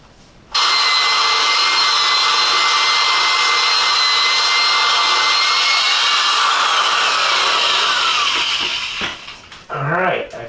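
A drill spins a small paint-stirrer wheel through thinset mortar in a bucket, giving a loud, steady whirring grind that runs for several seconds, then stops abruptly with a brief burst of handling noise at the end.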